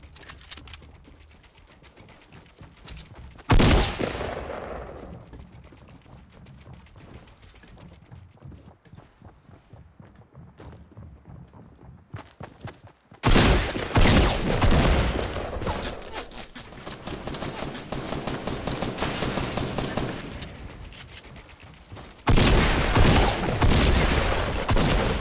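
Pump shotgun blasts in the Fortnite battle royale game, sharp loud bursts separated by quieter stretches, with a sustained heavy barrage of fire in the later part.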